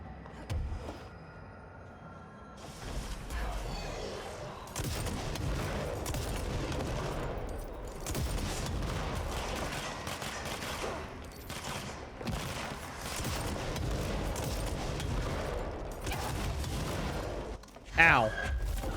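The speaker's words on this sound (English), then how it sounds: "I'm unknowingly hurting myself with the rocket launcher" Rocket launcher firing in the action game Control amid a chaotic firefight, with dense bursts of gunfire and booming blasts rolling on almost without pause, and a sharp loud impact near the end, under occasional talking.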